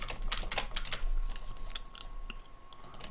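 Computer keyboard keys are pressed to enter shortcuts, giving quick irregular clicks close by over a faint steady hum.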